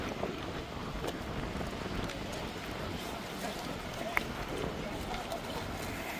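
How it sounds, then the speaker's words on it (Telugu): Strong wind roars steadily and buffets the microphone, a constant loud rush of air with no pauses. "చాలా దారుణంగా ఉంది గాలి అయితే"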